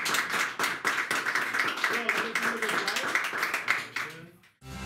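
Stage show audience claps loudly and rhythmically in unison as a performer comes on, dense and close, with voices mixed in, before the clapping fades away near the end.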